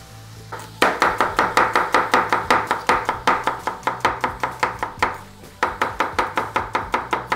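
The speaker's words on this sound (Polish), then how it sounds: "a ja w tym czasie pokroję dwie średniej wielkości cebule" A knife chops two medium onions into thin slivers on a board, a fast, even run of sharp close knocks that pauses briefly before the rhythm picks up again, loud and with no talking.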